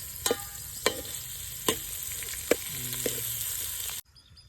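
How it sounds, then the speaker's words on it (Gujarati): Onions frying in oil in a pan while making a corn curry, a steady close sizzle broken by several sharp clinks of a spoon stirring, ending abruptly in near silence. "પેલા આપણે ડુંગળી તેલમાં પકવી નાખીએ."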